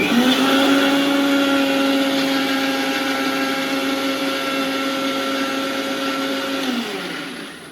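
A household mixer grinder, two years old with a slightly slow blade and due for servicing, blends tomatoes in a steady loud whine that holds for about seven seconds and then winds down at the end, with no talking.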